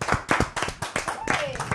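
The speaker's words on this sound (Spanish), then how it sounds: "Un fuerte aplauso" An audience claps in applause at a Spanish-language evening talk show as a singer is welcomed, the clapping loud and close under a host's speech.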